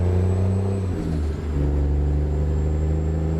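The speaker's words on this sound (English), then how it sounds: "show you guys the sights and sounds of this truck with the ZeeMod engine" Ford L8000 truck with a modded engine in American Truck Simulator, a loud steady diesel drone with low harmonics that dips briefly, as if shifting, then resumes a constant cruising rumble, close and alone with no talk.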